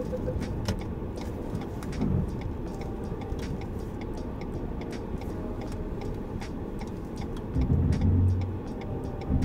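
Low car engine idling and creeping in reverse while manoeuvring out of a tight parallel parking space on a street, a steady low hum with faint ticking, swelling slightly louder near the end.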